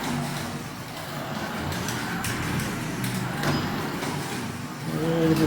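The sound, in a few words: Carrera digital slot car motor running on track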